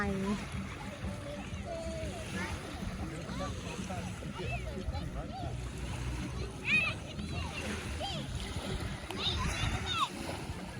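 Children splash and play in lake water at Alum Creek beach, with soft, scattered splashes under their distant voices and chatter, all fairly faint.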